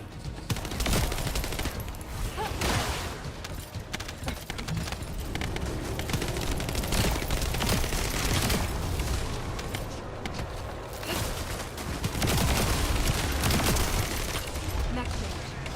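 Dense, continuous gunfire and bursts of automatic fire in a video game battle, loud and sustained throughout, with a voice talking over parts of it.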